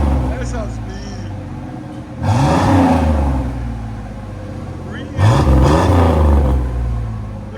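A 1992 Chevy S10 with a 4.3L V6 and a Flowmaster Super 10 exhaust revs up loudly twice in two strong bursts, with quieter idling and people talking between them.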